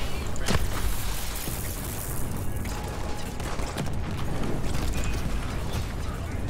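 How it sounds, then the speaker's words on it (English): Grenade blasts in the video game Borderlands 3, a sharp burst followed by rumbling booms and mechanical clanks amid dense gameplay noise, with little speech. "Oh, explosion!"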